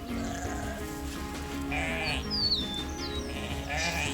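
A ewe bleats repeatedly in a pasture, calling for her newborn lambs: several loud, wavering baa cries, some nearby and some farther off, over a soft outdoor background.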